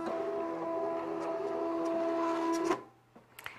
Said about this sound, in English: Carrie, now that it's done cutting, we want to unload our mat from our machine. We're going to select the Unload Mat key